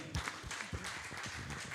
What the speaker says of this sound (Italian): Vogliamo fare un applauso al Signore